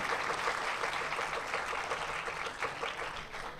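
Steady, dense applause from an audience at the close of a school bait bazi poetry competition, filling the room with a continuous wash of clapping and no talk over it.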